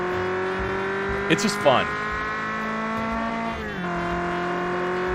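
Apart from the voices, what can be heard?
small car engine and tire squeal in a driving video game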